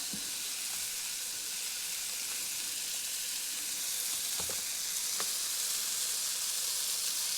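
A burger patty cooking undisturbed in a pan, giving a constant even sizzle with occasional faint pops and small clicks.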